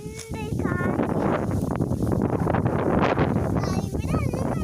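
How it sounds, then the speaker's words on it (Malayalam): Wind gusting across open paddy fields of ripening rice, buffeting the microphone with a steady, loud broadband rush throughout, while a voice speaks briefly near the start and end. "എന്ത് കാറ്റ്!"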